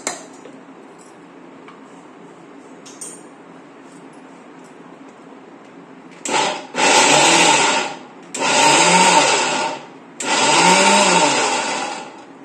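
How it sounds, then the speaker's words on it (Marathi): A mixer grinder grinds peanuts and green chillies into a coarse chutney, starting after a quiet stretch with three loud whirring bursts separated by short pauses. The grinding is close and fills the space, with no talking. "हे मिक्सर मधून काढून घेते"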